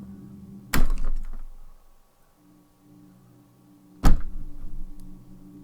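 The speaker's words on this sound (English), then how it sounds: "something rocked the truck from the back end, with a dull but heavy thud" Two heavy, dull thuds against a vehicle, a few seconds apart, each followed by a low rumbling rattle, with quiet stillness between them.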